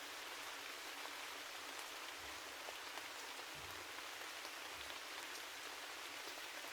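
Steady rain falls in a dense, even hiss of countless drops, soft and constant throughout with a few faint low thumps beneath.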